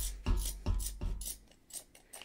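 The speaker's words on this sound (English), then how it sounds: "These scissors are not as sharp as I would like them to be." Dull scissors cut through crochet yarn in a series of close snips, about five to six crisp cuts with short pauses between them and no talk.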